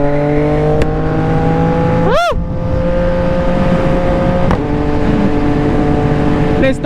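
Close, steady drone of a CFMOTO 675NK motorcycle fitted with a full-system exhaust as it cruises, with a brief whooshing pass of another vehicle and a few sharp shifts in pitch.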